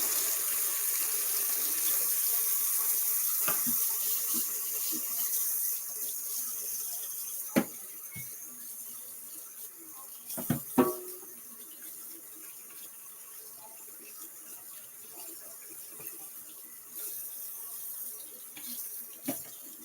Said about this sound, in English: So let's get this hot water on.